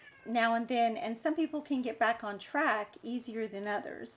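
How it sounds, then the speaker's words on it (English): A cat meows repeatedly at a door to be let out, its insistent cries running close and clear beneath a person's steady talking. "So if you hear meowing"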